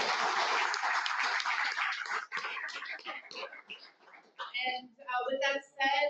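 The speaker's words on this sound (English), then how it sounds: "let's give a big round of applause for our new board members" A dense wash of applause for new board members at a membership meeting thins out after a few seconds, giving way to scattered claps and people talking.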